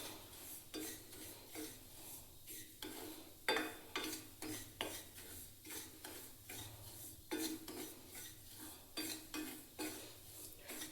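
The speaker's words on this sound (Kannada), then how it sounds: "ರವೆನ ಚೆನ್ನಾಗಿ ಹುರ್ಕೋಬೇಕು" Semolina (rava) roasting in a pan with a little ghee and oil, stirred with a spoon in quick repeated scrapes and clinks against the pan, faint and close over a low background.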